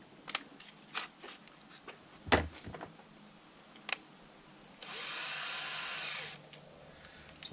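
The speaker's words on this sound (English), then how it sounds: "I'm gonna drill a little farther into this" Scattered knocks and taps, then a power drill whirs steadily for about a second and a half before stopping.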